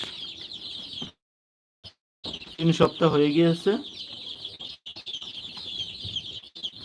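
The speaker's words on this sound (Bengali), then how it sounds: "সোনালি মুরগি সোনালি মুরগির বাচ্চা দেখো" Many small Sonali chicken chicks peep and cheep continuously in high, thin calls, with someone speaking briefly over them.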